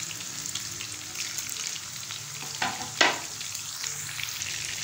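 Gola kebabs frying in hot oil, a soft continuous sizzle with a couple of sharper bursts of crackle near the middle, close and moderately quiet, no talking.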